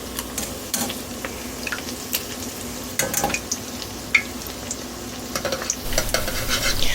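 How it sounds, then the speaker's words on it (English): A braided focaccia dough fries in oil that has cooled a little, giving a close bubbling sizzle with scattered pops and clinks of utensils throughout, no voices. "Let's fry that focaccia braid and see what happens."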